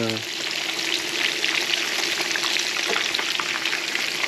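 Garfish frying in a pan, giving a dense continuous crackling sizzle with small pops throughout, close and fairly loud, with no talking.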